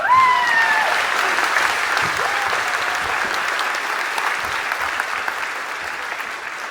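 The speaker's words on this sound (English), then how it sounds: "Go ahead, clap." New citizens applaud at a citizenship ceremony, a dense, steady burst of clapping from a full room that holds loud throughout and slowly eases off, with a few faint voices mixed in.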